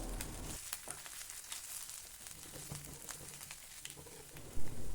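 Ginger sautéing in a pan for a sweet-sour tamarind ginger dish, with a soft steady sizzle, a few faint scraping stirs and a brief thump near the end, no talking.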